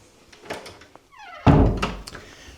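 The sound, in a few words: door being closed and locked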